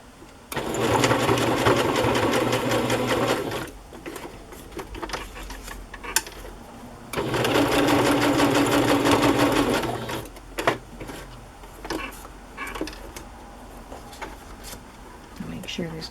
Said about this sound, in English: I'm going to zigzag around those edges too.